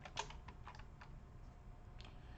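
Quick, light keystrokes on a computer keyboard as OpenGL code is typed, a short run of close clicks followed by a pause and a few more taps, with no voices.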